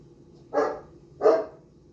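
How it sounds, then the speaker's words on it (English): A pet dog barks twice in even succession, moderately loud but slightly distant, heard on its own with no talk. "my doggy's barking in the background"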